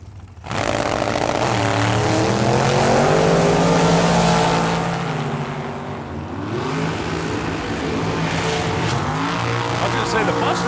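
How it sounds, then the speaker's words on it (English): A Mustang drag car launches at a drag strip during the Hangover Nationals, its engine roaring loud and close with rising, shifting pitch as it pulls away down the track, under steady crowd and announcer-type background. "the Mustang sounded like it laid over as soon as he cut it loose"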